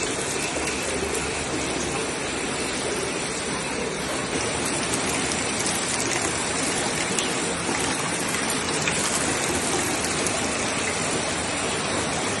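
Steady, loud rushing storm water from Hurricane Beryl gushing into a house kitchen fills the whole stretch, a continuous heavy gush with no pauses, close by and unbroken.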